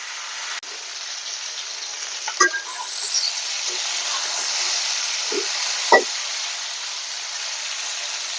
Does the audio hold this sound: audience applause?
no